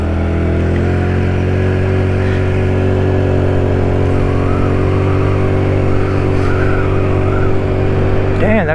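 An Icebear Hawkeye 150cc scooter engine hums steadily at light throttle while being ridden during break-in, a constant close drone with little revving.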